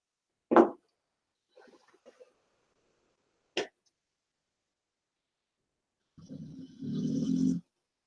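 Quiet, intermittent snoring from a person nearby during a drone livestream, a few short snorts spaced apart and then a longer rumbling snore, with silence between.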